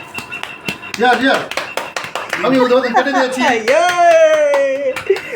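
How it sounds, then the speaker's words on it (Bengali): A small group gives a short round of hand clapping, scattered claps tapping under lively talk and a drawn-out cheer. "একটা হাততালি হোক ছোট করে"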